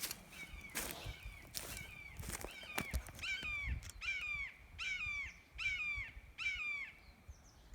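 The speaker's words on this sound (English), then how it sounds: "Red shoulder hawk." A red-shouldered hawk gives a series of sharp, repeated calls about once a second, clear and moderately close against a quiet rural backdrop in Northern California.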